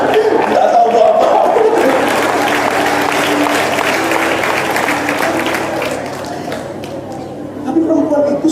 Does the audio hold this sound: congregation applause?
yes